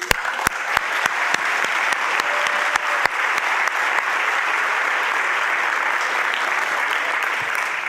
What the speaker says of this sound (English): We also want to give a round of applause for all the elected officials and community leaders here tonight.